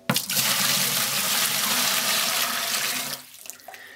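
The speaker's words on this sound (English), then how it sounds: "put in about half a gallon of hot water we've got here" Hot water gushes steadily into a winemaking vessel for about three seconds, a loud, close splashing pour that stops abruptly, followed by a few faint drips and clunks.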